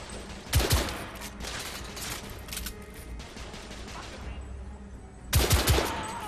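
Gunfire in The Order: 1886 during a third-person shootout, with two loud bursts of shots at the start and end over a steady backdrop of continuous distant firing and battle noise.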